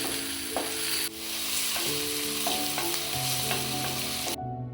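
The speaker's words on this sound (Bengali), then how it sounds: "একটা প্যানে তিন চামচ রিফাইন তেল গরম হলেই এক পিস মাঝারি সাইজ পেঁয়াজ কুচানো চার চামচ রসুন কুচি দু চামচ আদা কুচি দিয়ে" Chopped onion, garlic and ginger frying in three spoons of hot refined oil in a pan, a loud continuous sizzle with intermittent stirring scrapes, close and unbroken until it cuts off at the end.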